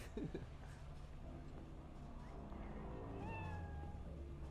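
A cat meows a few times in the game Cyberpunk 2077, faint and distant, with rising drawn-out calls over a low background hum.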